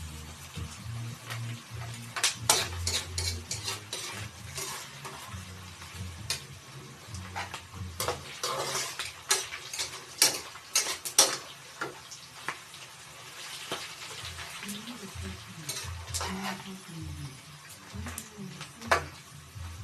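Chicken skin fries in a pan toward crispness, a continuous close sizzle broken by frequent sharp clicks and scrapes of a utensil stirring and tapping against the pan.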